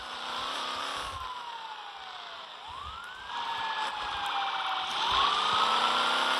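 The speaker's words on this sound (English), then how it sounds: "There's a police car here" A police car siren in the Roblox game ERLC rises and falls in long, smooth wailing sweeps, moderately quiet over faint traffic and engine hum.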